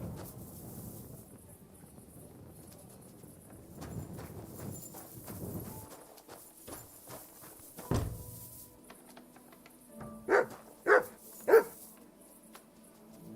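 A dog barks in Kingdom Come: Deliverance II, three sharp barks close together near the end, after quieter hoof clops and ambient game sounds.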